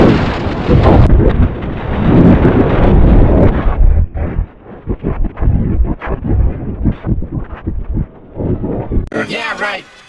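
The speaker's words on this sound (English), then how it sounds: "because thunder always comes after lightning" Loud rumbling thunder rolls for several seconds, then breaks into irregular cracks and crackling before a short louder burst at the end.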